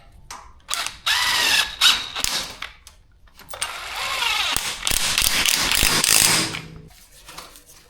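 Ratchet wrench clicking in bursts while fitting new bolts and split washers on a New Holland Link & Sweep 600 under repair, with sharp metallic ratcheting and clanks close up.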